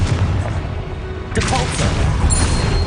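Confringo blasting-spell explosions in the game Hogwarts Legacy, a broad booming burst erupting midway over a steady rumble of battle noise, with voices in the game briefly heard.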